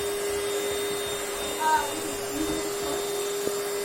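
An electric vacuum cleaner runs steadily, a constant close motor whine and hum as it sucks up toys, with a brief rattle partway through and faint voices in the background.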